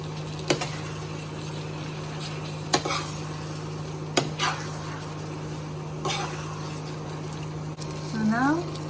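Pasta goes into a pot of boiling water on the stove, with a low bubbling hum and sharp clinks of a spoon against the pot at intervals, close by.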